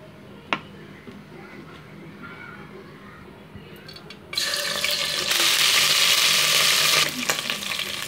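Chicken with ginger-garlic paste frying in oil in a pan for chicken fried rice, quiet at first, then a loud steady sizzle bursting in and holding for a few seconds before easing slightly.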